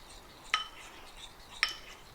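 Flour being stirred into a mixture for chicken and dumplings, two quick, faint clinks of a utensil against the bowl over quiet room tone.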